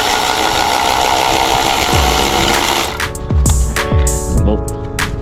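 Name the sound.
Milwaukee 3/8 impact wrench loosening 17mm bolt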